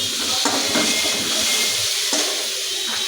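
Potatoes fry in hot oil in a pan on a home stove, giving a continuous close hiss and sizzle with faint crackles and no talking.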